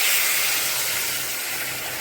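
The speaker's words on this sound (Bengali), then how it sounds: "গরম জলটা দিয়েছি" Hot water hits oil in a pan of frying taro curry, a vegetarian dish, releasing a loud, close, continuous steamy hiss that fades only slightly over two seconds.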